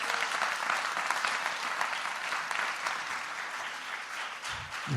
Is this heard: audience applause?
yes